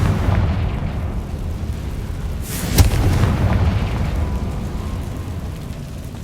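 Confringo explosion spell in the video game Hogwarts Legacy, a single sharp booming blast partway through, set against a continuous rumbling background roar.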